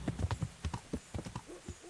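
Hoofbeats of a galloping horse in Kingdom Come Deliverance, a short run of close, clear clip-clops with no talk over them.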